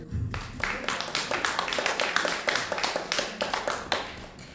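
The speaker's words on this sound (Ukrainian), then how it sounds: "І я вам аплодую" An audience claps through a Ukrainian–Lithuanian concert event, a lively burst of many hands with crisp, uneven slaps that starts abruptly and keeps a steady, fairly close intensity throughout.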